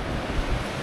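Surf rolling in at high tide on Green Bowl Beach, Uluwatu, Bali, a steady broadband wash with a brief swell of louder wave noise midway, heard alone with light wind buffeting.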